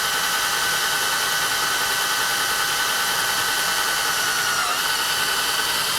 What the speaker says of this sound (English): Nice and slow on this cast iron. You can see it drills real clean, but it makes real fine chips.